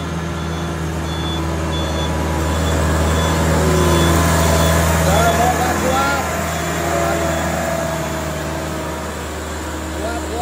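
A heavily loaded truck reverses with regular electronic reversing beeps over a labouring engine drone, with people talking nearby.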